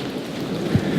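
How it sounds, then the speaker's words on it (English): A thunderstorm with steady heavy rain hissing outdoors and a brief low thud of thunder near the end, all within about a second. "because we have been having lightning"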